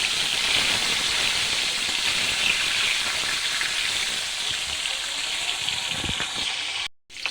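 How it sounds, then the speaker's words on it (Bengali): Marinated fish frying in hot oil in a wok, a loud continuous sizzle and crackle close up that holds steady, with a few clatters near the end before a brief drop-out. "মাছগুলো আমি এক পিট করে উল্টে দিচ্ছি।"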